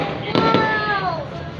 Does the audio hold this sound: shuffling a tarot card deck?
no